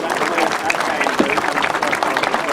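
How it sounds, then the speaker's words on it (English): A crowd at a British Masters grasstrack event applauds Tony Black, with sustained steady clapping and a few voices mixed in. "a big round of applause, please, for Tony Black"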